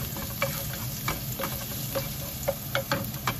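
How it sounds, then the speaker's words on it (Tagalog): Garlic sautéing in hot oil in a pan, a continuous sizzle with repeated light taps and scrapes of a spatula stirring at an uneven rhythm, close and moderately loud. "Igisa ang bawang."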